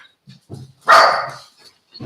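A dog barks once, loud and close, with a few softer yips and small vocal sounds before and after it, with no talking.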